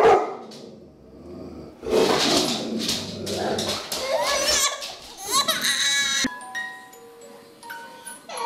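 Puppy barking in a home with a baby, a few short yips and bursts scattered among voices and noisy household sounds, fairly close but partly masked.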